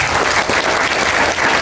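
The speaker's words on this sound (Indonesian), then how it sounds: "Berikan tepuk tangan untuk kita semua." Loud, dense applause from a large gathering at a school flag ceremony marking Indonesian Independence Day, many hands clapping steadily and close by for under two seconds.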